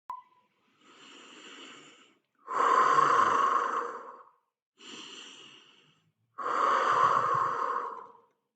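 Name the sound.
slow deep breathing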